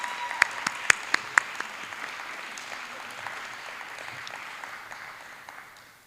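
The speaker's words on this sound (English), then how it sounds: "I would like to give another round of applause to all the award recipients of this evening" An audience at an evening awards celebration gives a round of applause for the award recipients, a few sharp close claps standing out at first over steady crowd clapping that gradually fades.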